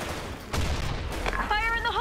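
Gunfire bursts in the BlackShot shooter game on the Xitang map, with loud shots clustered mid-clip over a busy game soundscape, while players talk and a whistling tone rises near the end.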